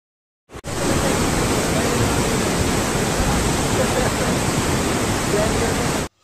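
The Beas river in flood at Kullu Manali, a loud, continuous roaring rush of water that starts abruptly and holds steady before cutting off.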